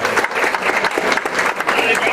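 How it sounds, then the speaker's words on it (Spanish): Crowd applause for the lighting and production staff at a winter party event, dense and steady throughout the short stretch, with voices mixed in the din. "Un aplauso para ellos."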